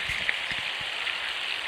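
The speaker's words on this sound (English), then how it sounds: "you make it rain with that stick by shaking it. Makes that noise because there's a lot of beads inside." A bead-filled rain stick is shaken, giving a steady, close, fairly quiet rattling hiss like falling rain, with a few faint low knocks underneath.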